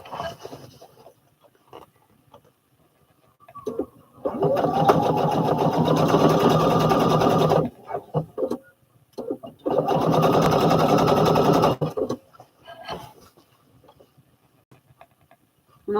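Two long bursts of a sewing machine running a fabric hem, each several seconds long with a short pause between, close and steady, separated by quiet handling noises of cloth being lined up.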